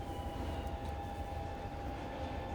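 Fukuoka City Subway 2000 series set 23 with Hitachi late-type GTO-VVVF drive running with an abnormal noise, heard as a steady onboard rumble with a thin sustained whine above it, continuous and fairly quiet, with no talk.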